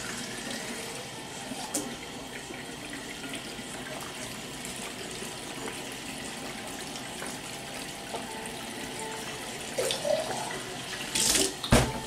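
Cold water runs steadily from a kitchen tap, a continuous moderate splashing stream that lasts throughout, with a few louder clatters and bursts near the end.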